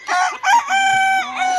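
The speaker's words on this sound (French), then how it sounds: "Voilà le coq, va très bien." A farmyard rooster crows up close, a loud, harmonic call in two short opening bursts followed by a long drawn-out note.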